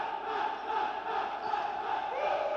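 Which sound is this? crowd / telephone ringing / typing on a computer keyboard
crowd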